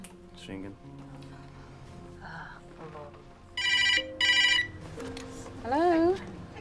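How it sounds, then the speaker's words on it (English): A telephone rings on a call, with several short bursts of bright electronic ringing between stretches of people talking nearby. "It's ringing."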